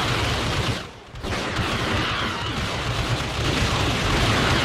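A dense barrage of missile and weapons fire from units in a Star Wars Empire at War strategy game battle roars continuously, with a short dip near the start before the steady, loud fusillade resumes.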